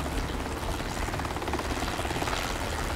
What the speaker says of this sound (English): Helicopter works just fine.